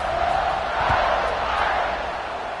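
A stadium crowd in the College Football 26 video game during an Ohio State game roars steadily in a broad, loud wash of cheering that swells slightly around the middle, with no clear voices on top.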